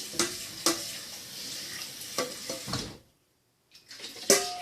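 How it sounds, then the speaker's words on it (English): Water runs and splashes intermittently with sharp clinks of glass, stopping briefly before resuming; a jar used for goat milk being rinsed at a sink, moderately quiet. "Rinse it off again"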